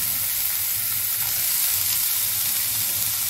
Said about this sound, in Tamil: இப்போ வந்து வெங்காயமும் கேரட் கட் பண்ணி வச்சுக்கோம்னா அதை ஆட் பண்ணிக்கிறேன்